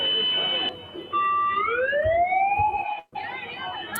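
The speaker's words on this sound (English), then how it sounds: "It's a weird siren." An unusual warning siren with steady tones that bend and glide upward, loud and continuous, broken by one short drop near the end.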